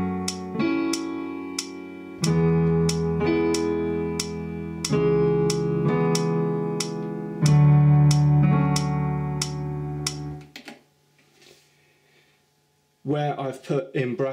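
Piano chords for a pop ballad struck in a steady rhythm, each held briefly before the next, about ten seconds of playing, then a pause and a few quick notes at the end.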